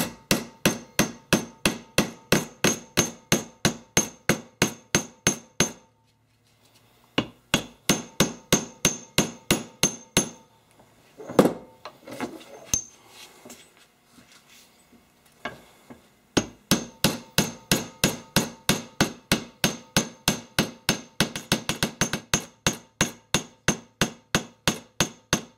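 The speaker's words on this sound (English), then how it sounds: "All the rivets are riveted at this point." Steady runs of sharp hammer blows setting rivets into a survival machete handle, fast and evenly spaced in long bursts, broken by a pause with softer handling and scraping before the rapid hammering resumes, close and loud.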